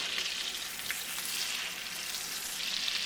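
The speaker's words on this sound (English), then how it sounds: "So we'll say about 3 minutes per side, and let that sear up." Stuffed pork chops searing in a hot pan, a steady close sizzle and crackle of frying fat throughout with no talking.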